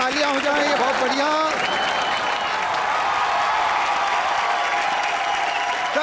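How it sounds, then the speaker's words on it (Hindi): A comedy show's studio audience breaks into loud, sustained applause with some cheering, while a voice speaks over the start before the clapping carries on alone. "जोरदार तालियां हो जाएं, ये बहुत बढ़िया।"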